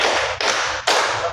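A classroom group claps together in a counted rhythm, making a dense wash of overlapping claps that forms three distinct bursts in quick succession, loud and close, with no talk.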